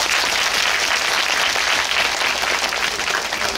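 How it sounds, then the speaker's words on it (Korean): Audience applause at a Korean film screening talk event for Parasite, a dense, steady roar of clapping from a large crowd that holds for the whole stretch with no talking over it. "큰 박수 부탁드립니다."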